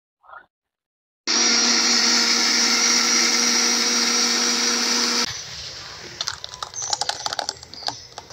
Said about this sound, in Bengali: তো আমার ব্লেন্ডারটা এখানে নেই, ঘরে যেহেতু, তো আমি ঘর থেকে এটা ব্লেন্ডার করে নিয়ে আসবো